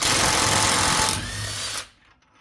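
A power tool with a 19mm hex socket spins loose a large front axle bolt on a 2010 Audi Q5 3.2L V6 Quattro, a loud continuous whir lasting about two seconds before cutting off abruptly.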